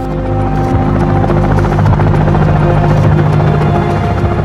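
A rescue helicopter's rotor and engine drone loud and close, a steady continuous whir with rhythmic blade chop that holds unbroken throughout, no voices.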